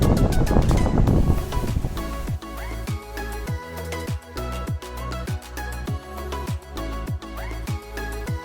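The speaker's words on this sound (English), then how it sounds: "Whew, she's windy. It's so windy." Strong wind gusting across an ancient palace site in Sri Lanka, a loud roaring buffet against the microphone at first that settles into a steadier rushing, with repeated clattering knocks, no talk.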